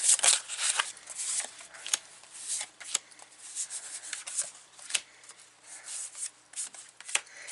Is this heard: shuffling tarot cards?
yes